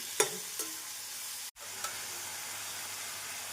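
Continuous close sizzle of onions frying in a pan, with a few stirring scrapes and a brief dropout midway.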